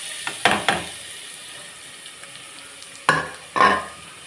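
Onions go into a pan of frying spices, giving a few sharp sizzling bursts and stirring scrapes against a quiet, steady background hiss.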